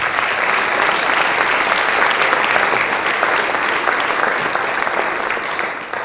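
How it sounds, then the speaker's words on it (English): Sustained, loud applause fills a high school gym or hall at a signing day celebration, with many hands clapping evenly for several seconds and a light murmur of voices beneath. "One last round of applause for these guys."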